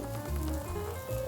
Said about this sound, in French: Et on va venir faire la flambée.